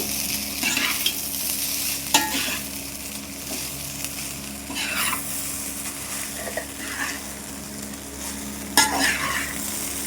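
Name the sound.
stirring chicken fried rice with sauces in a pan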